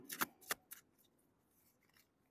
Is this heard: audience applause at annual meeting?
no